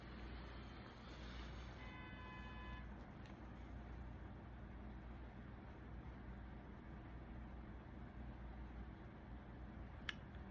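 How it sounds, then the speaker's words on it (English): A distant vehicle horn sounds briefly early on over a steady low hum of traffic, then the quiet roadway ambience continues. "That horn honk."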